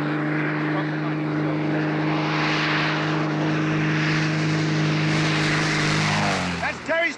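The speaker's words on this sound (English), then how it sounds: "That's Terry's plane!" A propeller airplane passes low overhead with a loud, steady droning engine that swells and then dips near the end, with voices heard faintly around it.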